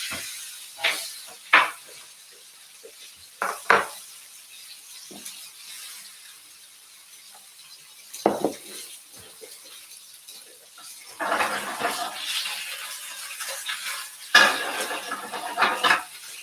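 A tomahawk steak cooks in a pan amid kitchen sounds, with sporadic clanks of pan and utensils and bursts of sizzling hiss, louder toward the end, with quiet stretches in between.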